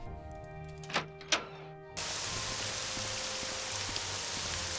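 Steady rain hisses across a broad band in the video game Morrowind, starting abruptly after two soft thunks and continuing alone at an even, moderate level.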